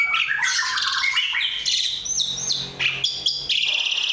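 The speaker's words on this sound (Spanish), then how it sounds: "This is woodpecker." A woodpecker kept for bird singing competitions in Indonesia calls loudly and close, sounding a rapid series of shrill squawks, chirps and whistled notes that rise and fall across several seconds, with no talk.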